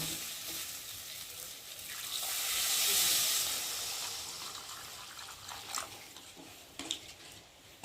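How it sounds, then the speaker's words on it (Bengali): Water poured into hot oil and frying spice masala for a Bengali rohu fish curry sets off a loud hissing sizzle that swells, peaks, then settles into a gentle bubbling simmer with a few clinks of a spatula against the pan. "আর এখন আমি একটু ভালো করে নেড়ে ছেড়ে আর একটু আমি জল দিয়ে ভালো করে ফুটিয়ে নেব।"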